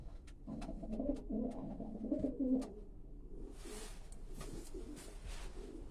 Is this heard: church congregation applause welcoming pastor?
no